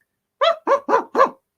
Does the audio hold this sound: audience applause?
no